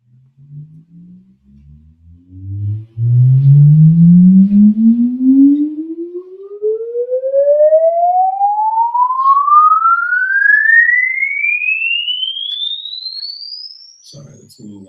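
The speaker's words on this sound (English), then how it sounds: "here's one test signal, and here's the longer one" A test signal played for acoustic modeling, a loud pure tone sweeping steadily upward in pitch from low to very high over about twelve seconds, with a brief lower stepped tone before it.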